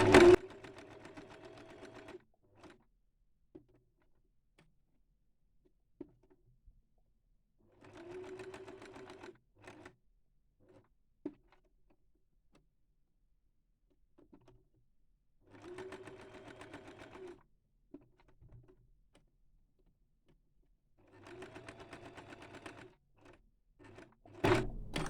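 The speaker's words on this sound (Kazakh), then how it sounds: "Шетін айналдырып тігіп аламыз" Sewing machine stitching along the edge of patchwork fabric: four bursts of steady, rapid mechanical whirring, each a couple of seconds long, separated by quiet pauses with occasional small clicks and thumps, close by with no talking.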